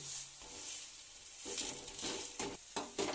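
Beet and onion fritters fry in hot oil, giving a steady sizzle broken by bursts of louder crackling and scraping as they are stirred and turned.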